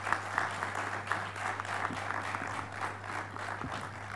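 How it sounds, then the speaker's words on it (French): At an African spiritual science conference, the audience claps to welcome a guest from Abidjan. The applause is moderate and steady with a rhythmic pulse, fairly distant and faint, over a constant low electrical hum. "je vous demande d'applaudir"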